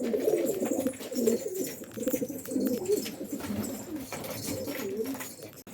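Pigeons coo repeatedly in soft, rolling bursts, several birds overlapping at close range over a faint background hiss.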